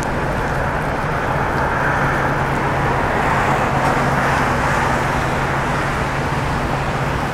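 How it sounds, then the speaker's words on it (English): Cars driving through water on a flooded Los Angeles freeway, a steady dense roar of traffic and spray that holds constant and loud throughout, with a low engine hum underneath and no talking. "You can hear a lot of these cars when they lose control"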